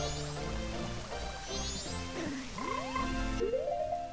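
A frog croaks in an Ocarina of Time randomizer game, its bending, chirpy calls sliding up and down over soft game ambience with light tinkling tones.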